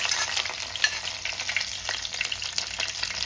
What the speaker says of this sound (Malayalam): അപ്പം ഇനി നമുക്ക് പച്ചമുളക് ഇട്ട് കൊടുക്കാം